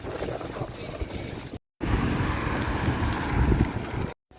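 Steady, loud wind buffets the microphone in a continuous roar, briefly cutting out twice.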